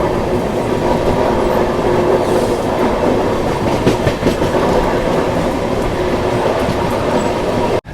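Passenger train rolling steadily after leaving Kamakhya station, a loud continuous rumble with wheel clatter and rail noise from on board, no voices.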